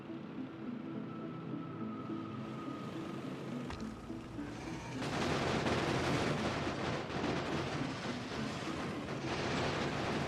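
Sustained automatic gunfire from Factorio Space Age weapons attacking an enemy nest, a dense rattling barrage that starts low and swells loud after about five seconds, continuing without speech.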